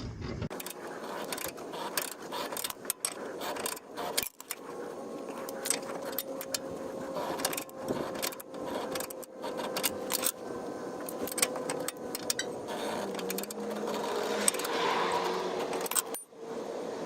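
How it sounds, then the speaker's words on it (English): Metallic clicking, jangling and mechanical ratcheting of a torque wrench tightening sway bar bushing bolts on the rear end of a Mitsubishi Galant VR4, close and fairly steady throughout with a few sharper knocks. "It's really hard to hold this torque wrench up and use this at the same time."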